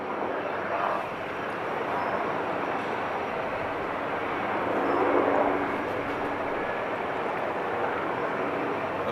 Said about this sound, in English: we actually have a Coast Guard plane on the general aviation part of Schiphol East